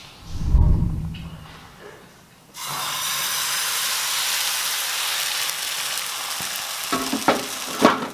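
Egg for a rolled omelette fries in a pan on low heat. A low thump comes first, then a steady, fairly loud sizzle with faint scraping and a few clicks near the end.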